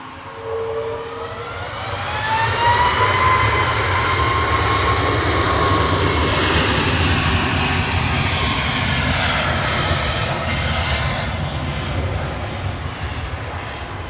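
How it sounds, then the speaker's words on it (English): A Ryanair Boeing 737 MAX 8 arriving from Alicante touches down at Manchester Airport, its engines giving a loud, sustained jet roar that builds over the first seconds and then holds steady throughout. "Ryanair from Alicante touching down. IGM there, 737 MAX 8 200."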